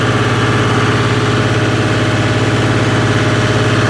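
A John Deere tractor engine runs steadily with a rotavator, giving a loud, continuous mid-to-low drone with a fine rhythmic vibration that holds level throughout and has no voices over it.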